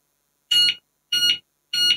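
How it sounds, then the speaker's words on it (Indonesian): A padlock with a built-in alarm gives three short, sharp electronic beeps, evenly spaced and loud against silence, signalling that the alarm is armed. "maka dia akan memberikan tanda bip-bip bahwa untuk alarm sudah berfungsi"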